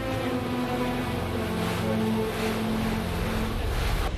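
A cruise boat on Geirangerfjord in Norway drones steadily with a low engine hum, water rushing along the hull and wind blowing across the deck.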